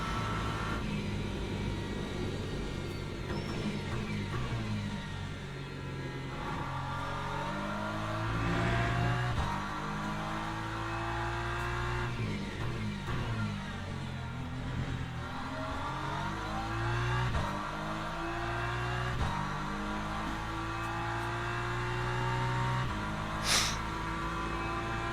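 Hypercar engines in a Le Mans racing video game rev and climb through gears in repeated rising sweeps, loud and continuous, with overlapping cars droning and a brief sharp click near the end.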